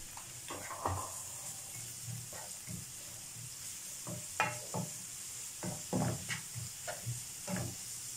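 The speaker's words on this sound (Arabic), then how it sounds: "وغنخليو البصله طيب واحد شويه" Onion sizzling and frying in a pan with black pepper, a steady hiss broken by repeated stirring scrapes and clatters, close and fairly loud with no voices.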